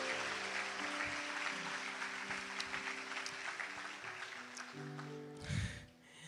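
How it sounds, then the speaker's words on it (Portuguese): Church congregation applauding during a Portuguese-language sermon, a broad steady wash of clapping under sustained organ or keyboard chords, tapering off near the end. "Um aplauso ao Senhor."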